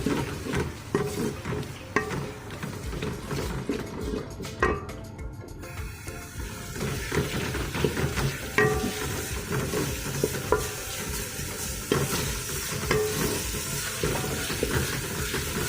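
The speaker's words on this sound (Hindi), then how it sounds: "4 से 5 मिनट तक हमें इसे अच्छे से फ्राई करना है।" Chicken keema frying with chopped tomatoes and green chilies in a pan, giving a steady, close sizzle with stirring scrapes throughout and no talking.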